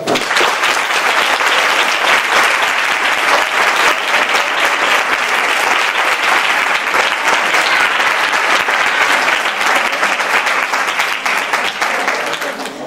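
Loud, sustained applause from a crowd at a youth football club's end-of-season celebration, a dense, steady roar of many hands clapping close by for nearly thirteen seconds, easing slightly at the end.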